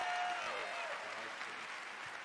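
Audience applause fills a Bethesda E3 presentation hall, a steady wash of clapping from a large crowd that carries evenly through the moment before fading slightly.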